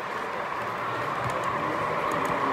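A train with two engines passing along a railway track, a steady continuous rumble and rolling clatter, close and fairly loud throughout.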